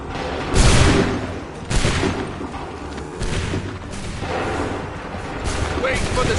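Musket volleys in Assassin's Creed 3, booming rolling gunfire bursts that crack out in waves over a battlefield rumble, with a voice calling orders in between.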